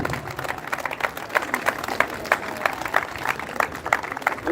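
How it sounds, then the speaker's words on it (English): An outdoor audience at a charity run event claps in a steady burst of many scattered hand claps, moderately near, with faint crowd murmur underneath. "Let's clap."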